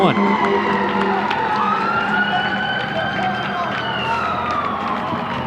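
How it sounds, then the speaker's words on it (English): Fire truck sirens wailing as they pass a baseball field with a road just behind the bleachers, several loud overlapping rising and falling tones heard steadily throughout, with a commentator talking over them. "They hear the fire trucks going by with the road close by, just behind the bleachers here at Durham Field."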